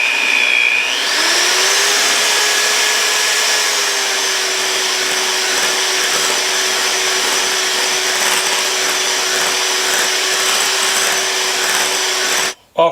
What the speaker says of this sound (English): we're going to add the vanilla extract and beat it for another 2 minutes